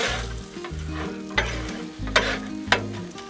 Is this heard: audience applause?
no